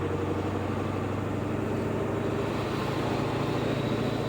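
Ford 7.3 Powerstroke diesel truck engine hauling a dozer on a hot day, a loud, steady, unbroken drone with a low rumbling pulse and no change in pitch.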